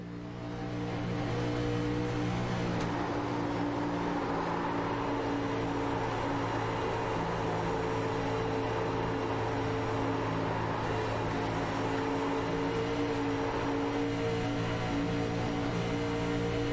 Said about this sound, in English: Let's just listen to Josh Parker work the throttle around the track here.